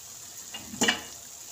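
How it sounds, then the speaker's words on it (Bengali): Boiled kabuli chickpeas tipped into a pan of hot spice masala, a brief splash and sizzle burst midway, then a soft continuing fry, close and alone. "এবার আমি মশলাতে কাবলি ছোলাটা দিয়ে দেব।"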